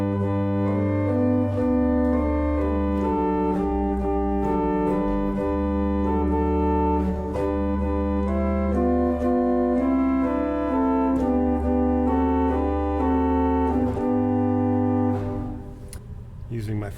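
Old church organ in an 18th-century church playing the pedal 16-foot stop coupled with the great, sustained chords over a deep bass line that shift every second or two, loud and alone, fading at the end.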